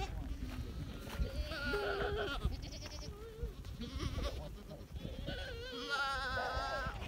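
Goats bleating outdoors in West Texas scrubland, several wavering calls spread across the stretch, moderately close, over rough wind and handling noise.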